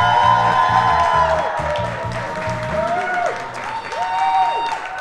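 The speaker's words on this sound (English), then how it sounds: "Let's hear your round of applause for that." A studio audience at a Packers clubhouse live show applauds, a steady wash of clapping with some cheering beneath prominent music or tones, fairly loud throughout.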